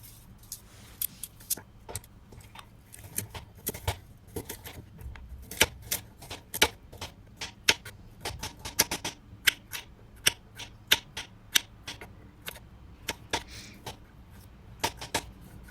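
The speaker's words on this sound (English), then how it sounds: "Then peel some 2 carrots and then cut them into little cubes" A knife chops peeled carrots into small cubes for a lentil vegetable soup, with irregular sharp taps on a cutting board continuing steadily.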